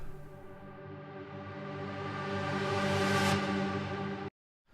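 A rising synth sweep swells steadily louder with a noisy whoosh, peaking near the end before cutting off abruptly into silence, then a brief return.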